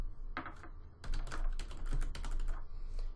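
Someone types an author's name on a computer keyboard: a quick run of soft, close keystroke clicks in short bursts with a brief pause, quiet and unaccompanied by speech.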